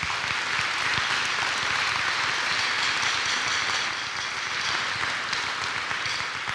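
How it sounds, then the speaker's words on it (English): A crowd at an outdoor school ribbon-cutting ceremony for the Winton Woods City Schools North Campus gives steady, sustained applause, a dense wash of many hands clapping at even loudness throughout. "Let's give him and the entire Winton Woods City School District a round of applause."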